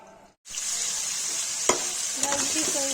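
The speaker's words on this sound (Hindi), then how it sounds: "फ्राई हो रहा है" Mutton liver frying in hot oil for a spicy Kashmiri-style kaleji, a steady loud sizzle after a brief silent gap, with a few stirring clinks near the end.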